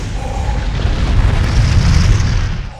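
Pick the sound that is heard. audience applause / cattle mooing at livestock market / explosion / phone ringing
explosion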